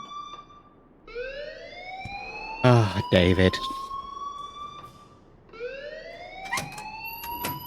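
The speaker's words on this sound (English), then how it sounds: "please turn off that alarm since that's your job" A rising, wailing electronic alarm siren sweeps upward repeatedly in the video game Life is Strange, loud and steady across the clip, with someone speaking briefly over it midway.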